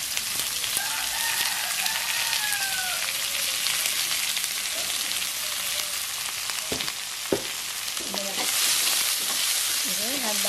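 Onions and shallots fry loudly in a pan, giving a dense continuous sizzle with occasional clinks and scrapes from stirring near the end.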